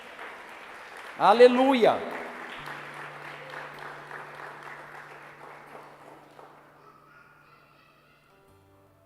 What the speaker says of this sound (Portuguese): Dê um aplauso a Deus